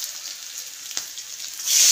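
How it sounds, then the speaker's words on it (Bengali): Onions fry in a pan with a steady soft sizzle, joined by a brief stirring knock partway through, and the sizzling swells louder toward the end, with no talking. "একটু পেঁয়াজটা একটু ভেজে নেবো।"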